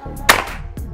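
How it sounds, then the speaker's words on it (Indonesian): A Predator Bocap GL PCP air rifle fires a single sharp, close shot that cracks loudly and decays quickly, followed by a softer thump near the end, during a velocity test. "Oke, tembakan ke 11."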